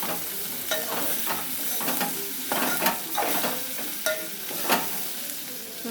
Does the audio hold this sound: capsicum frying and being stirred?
yes